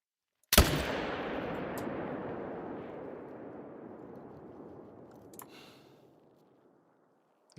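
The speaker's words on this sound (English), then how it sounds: "Well, guess we can try to shoot that one." A single loud hunting rifle shot in theHunter: Call of the Wild, a sharp crack followed by a long rolling echo that fades over several seconds across open coastal terrain.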